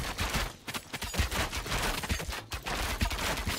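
Rapid, dense volleys of ballista tower shots crackle nonstop through a battle in the strategy game Thronefall, loud and busy with overlapping impacts and no clear pauses.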